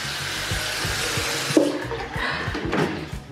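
Water running from a tap in a hotel bathroom, a steady rushing hiss throughout the short stretch, fairly close with no talk over it.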